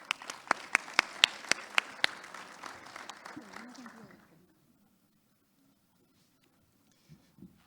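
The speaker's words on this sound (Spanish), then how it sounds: "Aplausos" Audience applause at a corporate business-integrity presentation: a burst of sharp, distinct handclaps that thins out and fades to quiet after about four seconds, with a faint murmur beneath.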